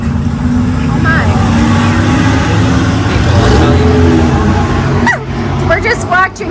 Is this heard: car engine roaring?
yes